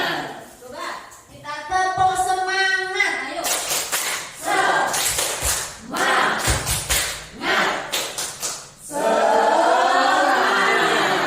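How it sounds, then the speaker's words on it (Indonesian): A group of school staff at a teachers' gathering performs a rhythmic spirit clap, bursts of clapping in patterned runs broken by pauses, mixed with voices chanting and talking loudly nearby. "Coba kita tepuk semangat, ayo."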